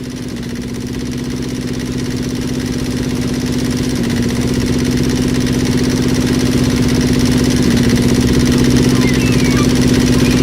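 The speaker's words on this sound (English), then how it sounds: "You also have the droning of the boat that's not only loud, but mind-numbingly loud." The boat engine in the video game Landless drones loudly and without a break, a steady mid-pitched hum with a faint rattle that slowly swells slightly louder across the stretch.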